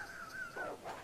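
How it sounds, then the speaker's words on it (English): A dog in the Resident Evil video game gives a short, quiet run of whining yelps and whimpers with no speech. "Oh, dogs! That dog."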